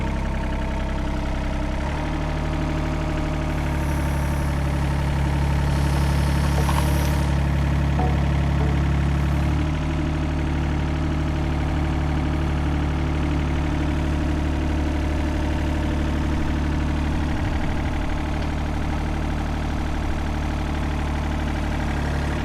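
An excavator engine runs steadily nearby with a loud, continuous low rumble. It rises briefly as the throttle increases, then settles back to a constant drone.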